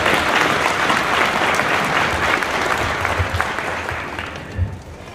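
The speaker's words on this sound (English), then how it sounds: "can we give a round of applause for all of the solos and girls that we've got to go on?" Sustained audience applause at a school spring concert, saluting the student soloists; dense, steady clapping fills the room throughout, with no talking over it.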